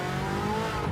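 A race car running hard around a track during a timed lap, its engine a steady, loud harmonic drone held close throughout, with faint hints of tyre noise beneath.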